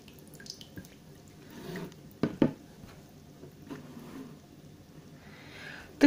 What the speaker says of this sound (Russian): Сейчас вода вся сойдет.